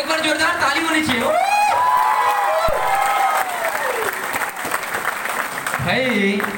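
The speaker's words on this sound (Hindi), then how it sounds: "एक बार जोरदार ताली होनी चाहिए" Applause from a lecture audience in Ranchi, a broad wash of clapping with some cheering, loud and sustained throughout, with a voice and tonal sounds layered over the crowd.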